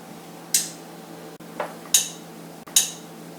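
A faulty refrigerator that is not cooling gives three sharp, bright clicks spaced about a second apart, with a duller knock between the first two, over a low steady hum in a quiet kitchen.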